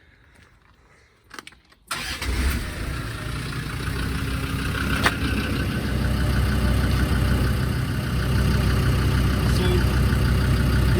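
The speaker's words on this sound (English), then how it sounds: "the engine's been running for about 2-3 minutes" A Land Rover Discovery TD5 diesel engine starts after a brief quiet moment, then settles into a steady, loud, close idle. A short spoken word comes just before it starts.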